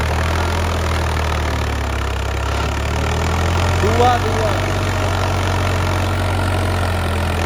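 A tractor hitched to a 9-foot rotavator runs at a steady low idle, a continuous heavy rumble. A voice speaks briefly over it midway through.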